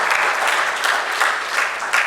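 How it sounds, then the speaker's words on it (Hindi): Audience applause welcoming author Kishor Makwana at the launch of his book on the Indian Constitution for students: a steady, dense roomful of clapping, close and even for about two seconds with no voices over it. "किशोर मकवाना जी के लिए ताली बजा के स्वागत करें"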